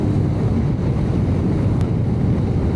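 Steady, loud wind rush buffeting the microphone, a continuous low roar with no voices, air streaming past while riding a Royal Enfield Guerrilla 450 motorcycle.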